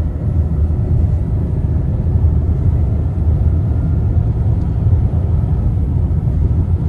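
A 2010 Dodge Journey MPV drives and accelerates smoothly. A steady low engine and road rumble holds at an even loudness for the whole stretch, with no talk over it.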